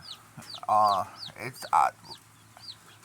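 Chickens cluck in a pen where new chicks have arrived, with short repeated calls and a couple of louder, sustained squawks close to the microphone over a faint background.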